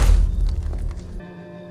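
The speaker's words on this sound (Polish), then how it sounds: "niebieskie beczki wybuchają? Tak, wybuchają." A blue barrel explodes in the video game Make Good Choices with a single loud, deep boom that fades into a low ringing tail.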